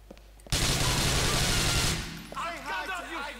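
Sustained automatic AK rifle fire in GTA IV, a dense, loud burst lasting about a second and a half, followed by someone shouting over the fading echo.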